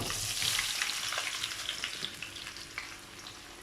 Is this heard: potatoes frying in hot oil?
yes